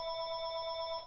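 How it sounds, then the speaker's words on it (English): A telephone rings indoors with a steady electronic bell tone, held continuously and fairly loud, with no speech over it. "Oh, that's our phone. You can just let it ring."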